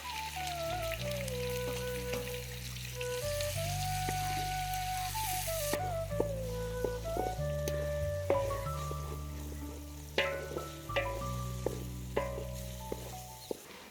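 Chopped onions, green chillies and curry leaves sizzle steadily in hot oil for a Thullu fish curry, a continuous close frying hiss with occasional stirring clinks, played under background music and no talking.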